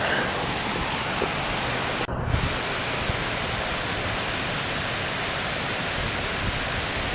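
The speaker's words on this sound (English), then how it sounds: "It's such a pretty sound, the water gently going over the falls." Water pours over a man-made waterfall by a former railroad bridge and mill, a steady, full hiss of flowing water that continues unbroken, broken only by a brief faint click.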